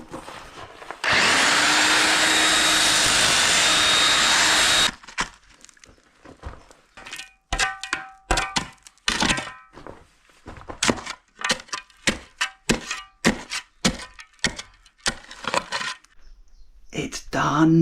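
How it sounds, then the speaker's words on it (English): Breaker chisel on a drill hammering through a sandstone cottage wall: a long, loud continuous grinding burst at the start, then a run of sharp, irregular impacts and knocks near the mic. "I'm going to get the little breaker chisel on the end busted out."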